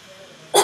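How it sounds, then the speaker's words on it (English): A single sharp huff cough during a breathing exercise, a short forceful breathy burst at the very end after near silence. "So I want you to do 3 huff coughs for me"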